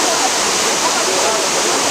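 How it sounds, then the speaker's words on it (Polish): A waterfall at a scenic overlook gives a steady, broad rushing roar of falling water, loud and unbroken from start to end. "Widać też wodospad i wygląda to pięknie."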